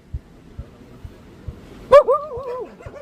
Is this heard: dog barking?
yes